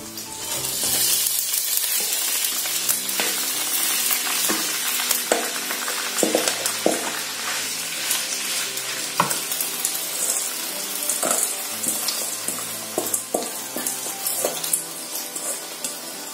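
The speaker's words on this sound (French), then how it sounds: "Je chauffe déjà, je vais donc ajouter le riz à l'intérieur." Rice sizzles and fries steadily in a hot pan, a dense continuous crackle with occasional sharper pops and stirring clinks throughout.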